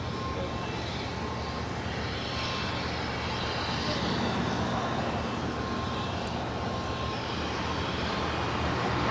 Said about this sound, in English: Up first, American Airlines flight 1637 on her way to Charlotte. It's an A321.